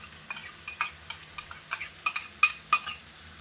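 Corn, carrot and peas for chicken fried rice are stirred in a pan, a spoon scraping and clinking in a steady rhythm of about a dozen short, fairly close strokes with no voices.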